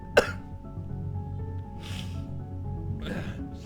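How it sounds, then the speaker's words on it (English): A single sharp cough right at the start, close and fairly loud, followed by quiet room hum with a couple of faint breathy throat sounds later. "Sorry for the cough."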